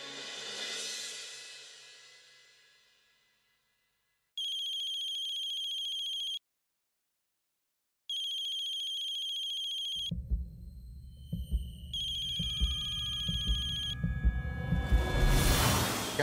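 A telephone rings in a home, sounding in repeated electronic bursts with short silent gaps between them. Low rumbling noise comes in toward the end.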